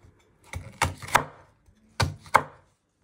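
A knife slices through a pepper on a cutting board, giving five crisp, close thunks in two quick groups with short silences between them.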